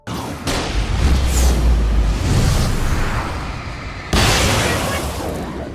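Flashbang or flare gun blasts in the video game Alan Wake: two loud, sharp bursts, one at the start and another a few seconds later, each trailing into a rumbling, hissing decay.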